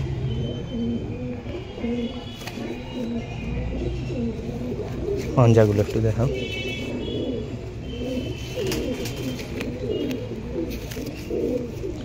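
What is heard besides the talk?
pigeons cooing in a loft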